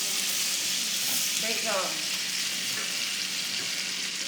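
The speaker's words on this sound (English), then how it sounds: "They're going to kind of sizzle." Potatoes frying in a school culinary classroom give a steady broad sizzle throughout, with a brief spoken remark and other voices faintly in the room.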